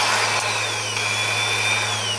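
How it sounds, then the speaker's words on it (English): Power drill with a wood bit running steadily on its non-hammer setting, boring through thin metal and wood while fixing a trailer; a continuous loud whine with a steady hum underneath, no talk. "so now it will drill through"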